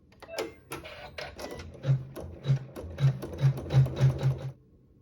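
A sewing machine sews a fabric seam with a fast whirring run, then a series of evenly spaced mechanical thumps. It stops near the end.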